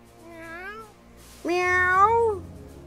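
A cartoon cat in the game South Park: The Fractured But Whole lets out two meows, a short one followed by a longer, louder drawn-out one, close and clear with no talking.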